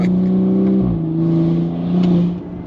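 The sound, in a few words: BMW G30 540i B58 exhaust downshifts with free flow downpipes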